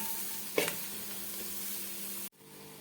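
Chicken curry masala sizzling in a pan as it is stirred, steady close frying hiss with one brief scrape early on, cutting off abruptly near the end.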